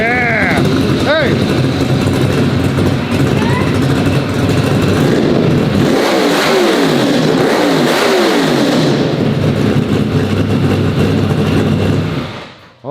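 An 800-horsepower NASCAR race car engine revs hard and loud without a break, a thick roaring drone that rises and falls, with excited shouting voices over it.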